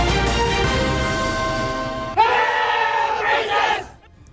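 A large crowd at the Supreme Court greets the 2024 bar examination results with loud, sustained shouting and cheering that swells into high-pitched screams before dropping off sharply near the end.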